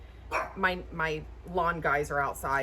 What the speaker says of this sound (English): sorry for the dogs barking.